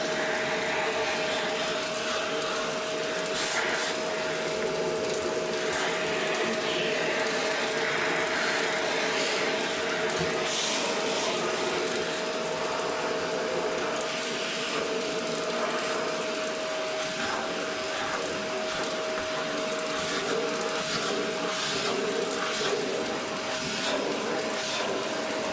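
Shop vacuum cleaning up wood chips after routing a 1977 Gibson G3 guitar body, a continuous steady whine and rushing hum throughout, loud and close with no talking.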